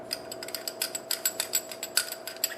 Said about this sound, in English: So I'm going to unscrew it